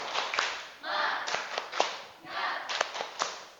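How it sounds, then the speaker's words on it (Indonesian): A small group claps hands in several short bursts during an icebreaker, with a voice talking between the rounds of applause. "tepuk tangan untuk kita semuanya"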